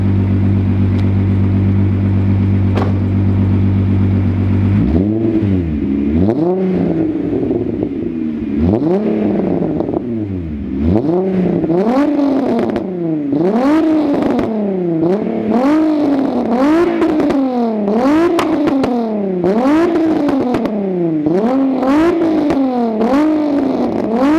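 A Volkswagen VR6 engine fitted with a tuning chip idles, then is revved hard again and again in quick rising and falling bursts, loud and close, with sharp crackles between the revs.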